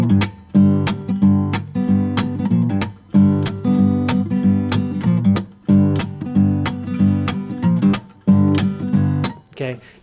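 Blues guitar playing a simplified hill country riff, a driving repeated pattern of plucked notes over a steady low groove, loud and close throughout.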